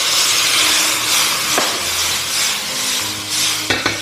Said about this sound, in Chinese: 先放入鱼头，简单的煎一下